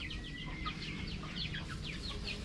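Several chickens cluck softly and steadily inside a coop on a small farm, with quiet overlapping calls over a low background rumble and no talking.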